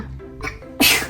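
A single sharp sneeze bursts out close by, loud and sudden after a brief lead-in breath, with a quiet indoor room behind it.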